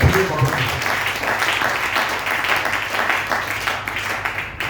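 Sustained applause and clapping from a church congregation acclaiming the Lord, a dense, steady roar of hands lasting several seconds with some voices mixed in.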